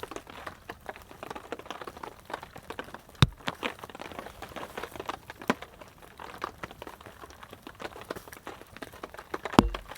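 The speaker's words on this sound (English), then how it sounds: "I also like the sound of the rain on the tarp." Rain drips from trees onto a tent tarp during a winter snowstorm camp, a soft continuous patter with a few sharper, louder drops landing irregularly, no voices.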